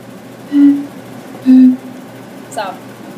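Someone blows across glass pop bottles tuned to different pitches, giving two short, breathy hooting notes about a second apart and a fainter third at the end.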